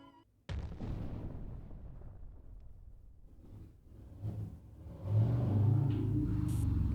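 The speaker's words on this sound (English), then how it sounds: "That is a loud car." A loud, deep engine rumble swells in and roars close by, then fades slightly before a heavy low drone rises again.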